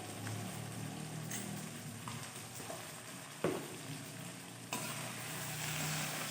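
Okra (bhindi) with potatoes fries in oil in a pan for a spicy dahi bhindi: a steady, moderately faint sizzle runs throughout, broken by a couple of sharp clicks of stirring against the pan.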